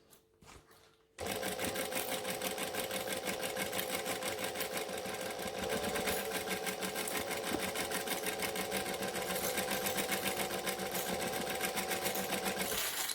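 A sewing machine stitches a bowler bag at a slow, steady pace, its needle clatter close and continuous after a short quiet start.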